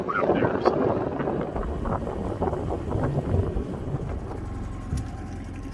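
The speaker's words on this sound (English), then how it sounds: "The wind's coming in from the south today" South wind blowing along the Lake Superior shoreline from a drifting boat, a continuous rough buffeting rumble across the microphone with gusty variation throughout.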